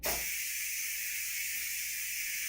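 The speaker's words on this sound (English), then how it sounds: "time to blow off some steam." A pressure cooker cooking pulled pork vents steam in a loud, steady hiss that starts abruptly and carries on unbroken without any talk.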